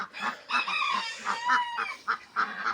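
Farmyard poultry, chickens clucking and crowing in short repeated bursts close by, several birds calling over one another with brief pauses between calls.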